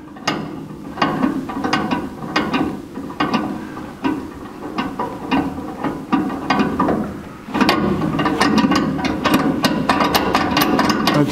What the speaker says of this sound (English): we'll take it back a half a turn and set our jam nut